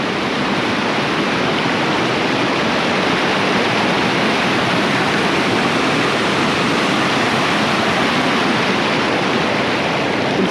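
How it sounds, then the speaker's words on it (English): Dense, steady rushing roar of a flooded stream pouring across a widened ford crossing during a December flood in Vermont, loud and continuous without pause. "So this is my ford crossing. It's pretty wide now."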